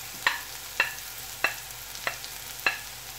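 Ginger, onion and garlic sizzle quietly in hot oil for chilli gobi, under five evenly spaced sharp scrapes of a spoon against the pan, close by with no voices.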